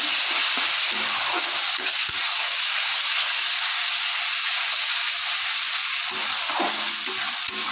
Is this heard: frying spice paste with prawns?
yes